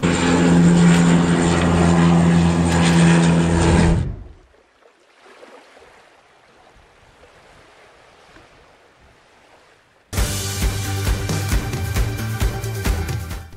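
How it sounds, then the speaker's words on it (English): A Canadair CL-415 amphibious firefighting aircraft flies near a coastline during a wildfire, its loud propeller roar filling the first four seconds. Quiet ambience follows, then a second loud pass returns near the end. "The Canadair CL415 is an amphibious aircraft used to fight fires in many countries around the world."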